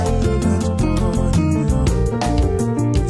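A grand-piano-style keyboard voice plays an Ariaria praise groove, moving through a chord transition with a steady rhythmic bass pattern and sustained upper chords, loud and continuous with no talking.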